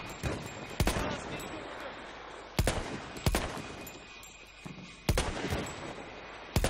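Pistol shots in the Battlefield 1 video game, four sharp loud reports spaced irregularly over a steady busy battle background, with no talking.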